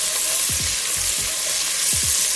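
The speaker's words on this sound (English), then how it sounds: "I'm gonna add a little bit more oil to this, onions and garlic." Loud, continuous sizzling of onions and garlic frying in hot oil, with a few soft low thumps from stirring.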